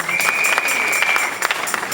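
A church congregation claps together in dense, lively applause, close and steady throughout, with a faint tone sustained underneath.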